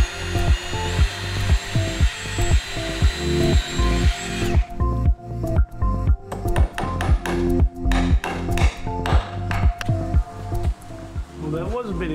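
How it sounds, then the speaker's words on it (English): A power drill pre-drills a hole in wall framing, whirring loudly and close in repeated pulsing bursts with tapping clicks, while a person talks over it. "So let's pre-drill and give it a try."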